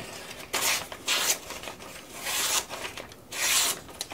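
A knife edge is drawn over a leather strop to clear the last of the burr. Several soft, rhythmic rubbing strokes sound close by with short pauses between them, and no one speaks.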